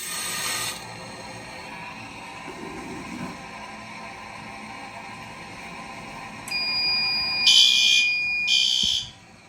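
Garage fire alarm system going off during a test, a loud piercing electronic tone that starts near the end and pulses in a few bursts over a faint background hum.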